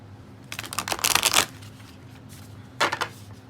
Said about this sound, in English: Sometimes it takes a while to get these bigger round cards actually shuffled.